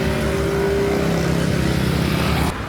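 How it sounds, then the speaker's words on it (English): Motorbike and car engines rev and drone loudly in street traffic on Nusa Penida, Bali, a dense continuous roar of nearby motors that cuts off abruptly at the end. "revving of motors."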